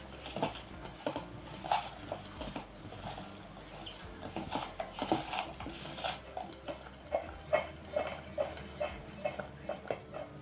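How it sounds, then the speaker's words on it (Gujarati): Bitter gourd slices being tossed by hand with salt and turmeric in a bowl, with soft, irregular clinks and rubbing scrapes, fairly quiet and close, repeating with no talk. "હળદર અને મીઠું નાખીને આપણે એને હાથથી મિક્સ કરી લેવાના છે"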